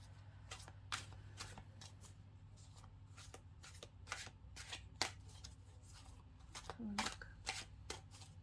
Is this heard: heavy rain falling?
no